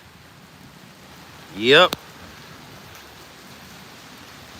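Rain falls steadily outdoors as a soft, even hiss, with a single short spoken word briefly rising over it.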